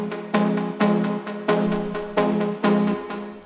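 Deep house synth verse chords from the drop, played in a different rhythm for the buildup: short bright chord stabs repeating in an even pulse, each decaying quickly, clean and alone.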